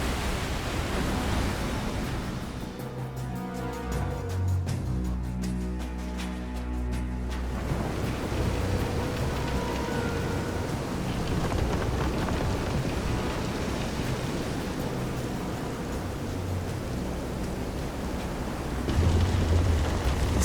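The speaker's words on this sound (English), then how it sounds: "This is some storm." Heavy storm rain at sea in the video game Visions of Mana, a steady dense hiss of downpour with low rumbling swells, loud and continuous throughout with no voices.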